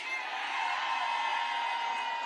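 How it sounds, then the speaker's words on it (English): A voting-rights mass rally crowd roars with sustained cheering and whooping, a dense, even wall of voices and applause that holds steady throughout. "Give black women a round of applause."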